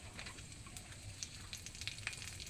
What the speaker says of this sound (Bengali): তেলের মধ্যে আমি এই যে 5 ফোড়ন দিচ্ছি।